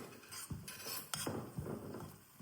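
Spoon stirring grated coconut in jaggery syrup in a pan, a few soft scraping clinks against the metal at an uneven pace, quiet and close with no voices.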